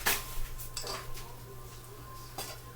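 Corn being stirred into a creamy seafood spinach dip in a bowl, with a few soft clinks of a utensil against the dish and quiet scraping, close and low in level.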